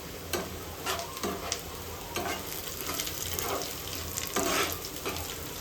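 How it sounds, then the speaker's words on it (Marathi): Curry leaves dropped into hot oil with browned onions, a steady sizzle with repeated stirring scrapes and soft clinks, close and even, no voices. "त्याच्यामध्ये आपण टाकणार आहे कढीपत्त्याची पानं"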